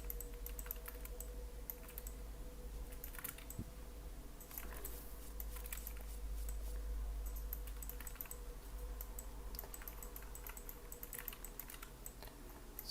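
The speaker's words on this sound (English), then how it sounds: "I'm switching back and forth with a D button on the keyboard" Computer keyboard keys are tapped in irregular bursts of crisp clicks, close and fairly quiet over a steady low room hum, with no talking.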